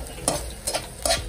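Grasshoppers frying in oil in a frying pan, with three short bursts of stirring and sizzling over a low steady background, close and fairly quiet.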